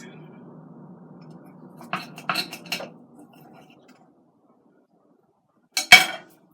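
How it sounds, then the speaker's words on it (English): A knife cuts a sausage on a plate, giving a cluster of light metallic clinks and taps against the plate, then one sharp louder clack after a quiet pause, all close up. "I'm gonna cut this sausage."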